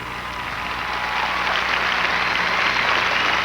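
A large arena crowd applauds a gymnastics routine at the 1993 Subaru World Open Gymnastics Championships, a steady, dense wash of clapping that swells slightly and carries on without a break.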